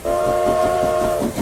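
Train locomotive sound effect: a loud, sustained horn-like whistle with a rhythmic chugging of wheels underneath, close and alone, cut off abruptly after about a second and a half.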